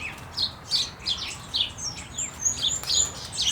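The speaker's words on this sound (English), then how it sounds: "It's two birds fighting, eh?" Two birds fighting in a garden let out quick, sharp chirps and tweets in an irregular back-and-forth, moderately close over a steady noisy background.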